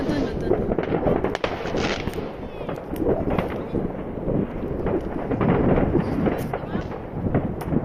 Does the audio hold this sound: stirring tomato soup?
no